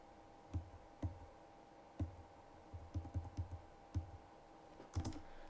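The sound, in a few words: typing on a computer keyboard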